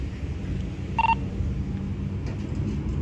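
A police officer dials a phone: a single short keypad tone rings out over low rumbling background noise, with no one talking.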